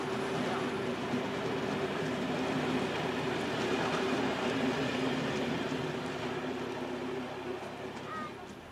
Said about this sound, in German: Am Schluss rollt der eben gesehene Steuerwagen.